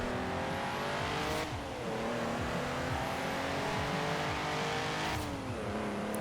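An LS-swapped car in Forza Horizon 4 accelerates hard, its engine droning loud and steady as it climbs through the revs, with two brief dips where gears change.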